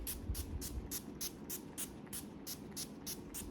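NYX Matte Finish makeup setting spray misted repeatedly in quick, evenly spaced hissing bursts, about a dozen short pumps close to the microphone with no talking.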